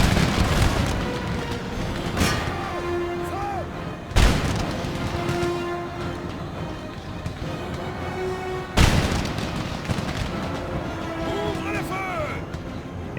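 Cannon bombardment in Empire: Total War (Darthmod), three heavy booming shots spaced a few seconds apart over a continuous din of distant battle, with faint musket crackle and other game sounds filling the gaps.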